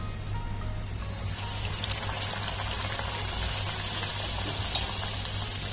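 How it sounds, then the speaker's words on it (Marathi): Puris frying in hot oil, a soft steady sizzle and bubbling with a low constant hum underneath, faint and continuous without talk. "आता आपण पुऱ्या तळून घेऊया। तेल छान आपलं तापलेलं आहे।"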